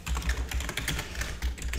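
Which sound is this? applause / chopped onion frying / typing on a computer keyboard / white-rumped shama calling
typing on a computer keyboard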